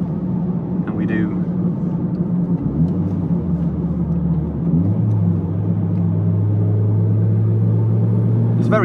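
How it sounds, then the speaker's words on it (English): A Ford Mondeo MK3 engine is heard from inside the car during a downshift with rev matching. The steady hum blips up in pitch and then settles into a higher drone, with cabin rumble throughout. "it's very nice for a downshift rev matching"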